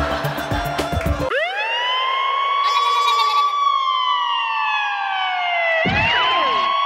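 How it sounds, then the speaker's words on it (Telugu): An ambulance siren sound effect in a comedy skit wails loud and close, one long rising-and-falling tone that holds steady for several seconds, with brief chatter before and a second siren burst near the end. "నేను స్టార్ట్ చేశాను అంబులెన్స్,"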